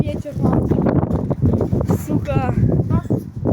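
Strong gusting wind buffets the microphone in a loud, rumbling roar while someone talks over it throughout.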